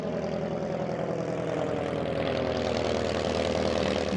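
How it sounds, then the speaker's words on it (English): Small propeller plane in a children's cartoon story, a steady droning engine hum that holds even and slowly swells as it draws nearer overhead, alone with no voices. "Up in the sky, they could see a small plane approaching."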